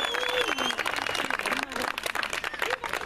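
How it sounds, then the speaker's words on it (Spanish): A crowd applauds the Juventud Renca girls' team at a women's tournament in 2014, a steady dense clapping sustained throughout while a voice talks over it. "le den un fuerte aplauso a las muchachas de"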